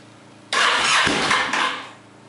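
A Honda VTX motorcycle engine fires up suddenly, a loud close burst of rumbling combustion lasting under two seconds with a brief dip, then settling and fading toward a lower idle.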